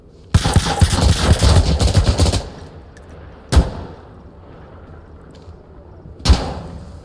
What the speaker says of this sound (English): Somebody sure is shooting at me